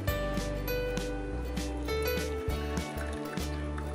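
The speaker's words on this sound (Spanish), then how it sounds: "a este trozo de lavaplatos le vamos a añadir agua caliente" Hot water poured into a container holding a piece of dishwashing paste, a soft running trickle and splash under a low steady background hum, with no talk.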